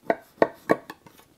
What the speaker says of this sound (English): I'm going to cut into diamonds